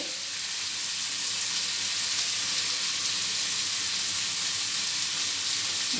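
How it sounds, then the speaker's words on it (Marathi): Cauliflower curry, salted, sizzles while sauteing in a pan, giving a steady, even hiss of frying that holds at moderate volume throughout with no talking. "छान परतून घ्यायची भाजी आपल्याला ही फ्लावरची भाजी"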